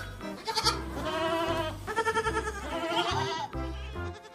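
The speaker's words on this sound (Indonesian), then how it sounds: "Ini namanya kambing jantan." A male goat bleats in a series of loud, wavering calls at close range, with short pauses between bleats and no talking.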